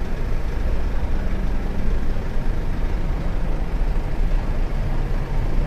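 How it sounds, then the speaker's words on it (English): A parked vehicle idles on Preston High Street on a Friday afternoon, its engine giving a steady, close, unbroken low rumble that holds at an even level throughout. "you need to switch your engine off."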